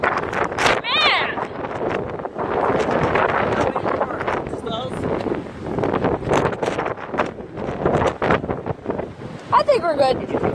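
Strong gusting wind in a wind storm roars and buffets the microphone continuously, with people talking and shouting close by throughout.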